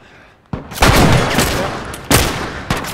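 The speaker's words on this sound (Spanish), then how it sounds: "se escuchan los tiros a mago" Gunfire from The Last of Us Remastered comes in loud, close bursts: one around the half-second mark with a rolling echo, then two more sharp volleys near the end.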